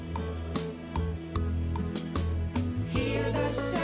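Cartoon crickets at night chirp in short, evenly spaced bursts that repeat steadily over soft background music.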